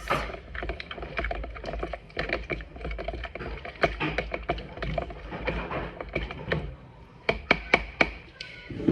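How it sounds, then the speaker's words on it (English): Sourdough starter stirred into water in a bowl, a quick series of close, sharp clicking and tapping strokes of the utensil against the container, steady and rhythmic, with a few louder distinct taps at the end. "And then I'm gonna give that a little mix."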